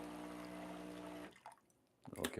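A Breville Barista Touch espresso machine flushes water through its group head in a steady, hissing rush for about a second. The flow stops, followed by quiet and then a short clatter.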